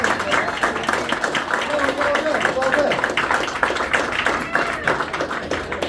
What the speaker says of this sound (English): How about a round of applause for both of my friends?